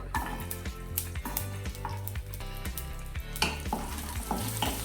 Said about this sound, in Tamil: இது கூடவே கருவேப்பிலை, வெங்காயம் நல்லா வதக்கிக்கலாம்.